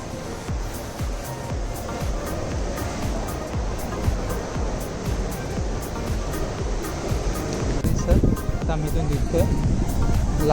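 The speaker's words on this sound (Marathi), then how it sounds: "लाटा येतात" Waves rush and break continuously on a shore at Harihareshwar on the Konkan coast, a loud churning wash of surf with voices talking over the water.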